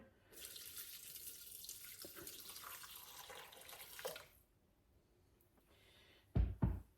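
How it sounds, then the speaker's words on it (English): Reserved cooking liquid poured into a flour and butter roux in the bottom of a dish for stuffed peppers, making a steady close splashing pour for about four seconds, then quiet with a couple of sharp knocks near the end. "And now I'm to add 7 ounces of the reserved liquid."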